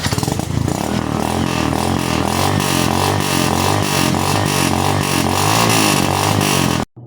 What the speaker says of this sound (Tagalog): One click lang, nag-start na kaagad.